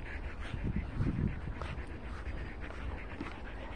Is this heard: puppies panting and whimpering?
yes